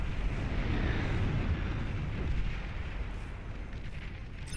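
Explosions in the strategy game Beyond All Reason, dense rumbling booms and bursts rolling together in a loud continuous barrage that eases slightly toward the end.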